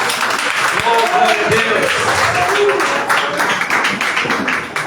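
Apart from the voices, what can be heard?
applause in church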